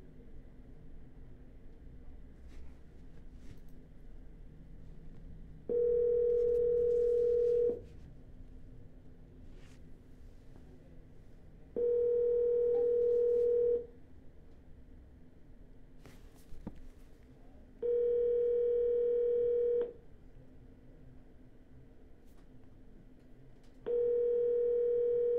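Telephone dial tone while calling a seller, heard as four steady ringback bursts of about two seconds each at regular intervals, with quiet line hiss between them and no talking.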